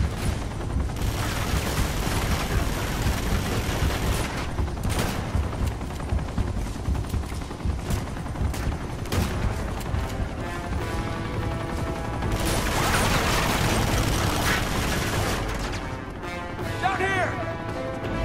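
Gunfire crackles through a firefight in the video game Uncharted 2: Among Thieves, with bursts of rapid shots and scattered single cracks over a busy action soundscape, under someone talking.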